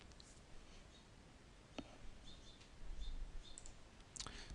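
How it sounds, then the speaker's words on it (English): A few faint computer mouse clicks, scattered and soft, against a quiet background while a PowerPoint file is saved and uploaded to a server. "click on File Save to upload it to the server"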